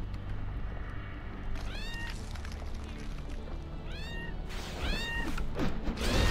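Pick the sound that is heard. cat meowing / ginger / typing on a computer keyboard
cat meowing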